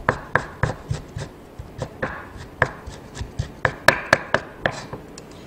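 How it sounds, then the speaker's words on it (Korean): A kitchen knife cuts thinly sliced beef into fine strips on a cutting board, a steady run of crisp, close, evenly spaced chops with no talking. "얇게 편 썰은 고기는 채를 썰어주시고"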